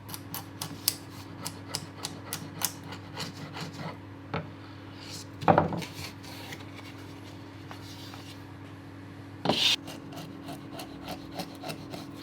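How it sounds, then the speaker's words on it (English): A hand chisel pares small wood feathers off freshly cut cabinet doors in a workshop, making quiet scraping and rubbing strokes in a steady rhythm, with a couple of louder scrapes and a low hum underneath. "we can just clean up with a chisel"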